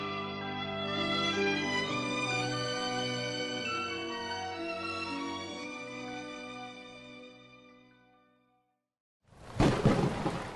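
A thunderstorm sound effect fades in as a loud rumbling crash of thunder after a long musical passage and a brief silence, raging near and heavy to the end.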